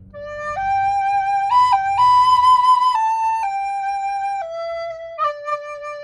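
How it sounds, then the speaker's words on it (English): A small plastic garklein piccolo recorder plays a slow, clear melody of sustained notes stepping up and down, loud and close, with faint low rumble underneath at first. "Standard recorder type. It's not quite the same as a penny whistle."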